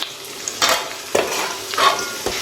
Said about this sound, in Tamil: இஞ்சி பூண்டு பேஸ்ட் வந்து நல்லா பச்சை வாசனை போகிற அளவுக்கு வதக்கணும்